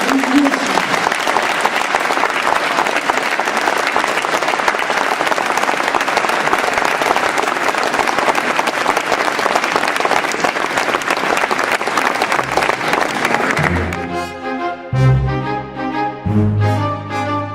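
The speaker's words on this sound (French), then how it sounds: "Applaudissez-vous." Sustained audience applause in a hall after a mayor's New Year address, dense steady clapping for about fourteen seconds before it gives way to music.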